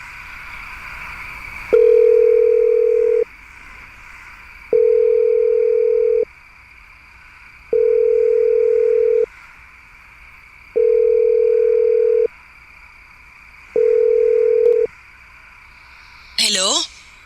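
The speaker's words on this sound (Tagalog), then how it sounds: "Matawagan nga ulit." A telephone ring-back tone plays while a call is placed, five evenly spaced steady tones with silent gaps between them, clear and close, ending in a short burst as the line picks up.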